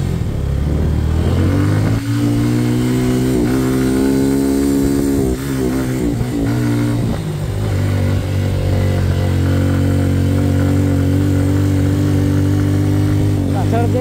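A motorcycle climbs a challenging, rain-affected mountain road to Keokradong in Bandarban, its engine droning loud and close with rising and falling revs through corners, while voices talk over it.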